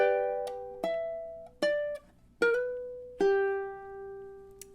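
Fingerstyle ukulele playing a short two-measure phrase of five to six plucked notes that ring and fade between picks, moderately soft and close, with no voice.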